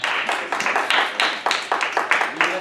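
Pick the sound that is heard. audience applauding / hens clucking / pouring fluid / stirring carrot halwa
audience applauding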